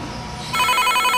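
A telephone rings loudly, its bell sounding in a steady repeated pattern that starts partway through after a moment of quiet room noise.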